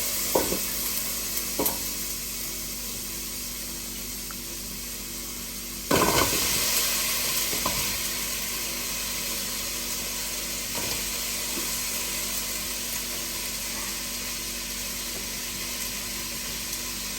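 Strawberries go into a hot pan for jam, and a steady hiss and sizzle swells suddenly as they land, then settles into a continuous bubbling fry with occasional small clicks.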